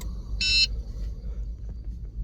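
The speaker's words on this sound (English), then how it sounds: "hear the beeping sound indicating programming is successful" Honda Accord (2013-2017) key fob programmer giving one short bright electronic beep that confirms programming, heard once early over a low steady hum.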